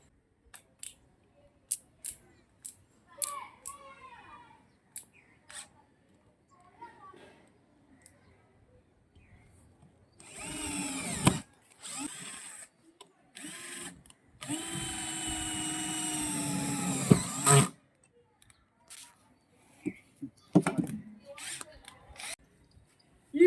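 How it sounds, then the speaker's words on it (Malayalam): A 12V cordless three-mode hammer drill runs in a sustained burst of several seconds with a whining motor tone, set between scattered clicks, handling noises and quiet gaps. "ഇതിനകത്ത് നമുക്ക് ഭിത്തി തുളക്കാം, നോർമൽ ഡ്രില്ല് ചെയ്യാം, സ്ക്രൂ ചെയ്യാം."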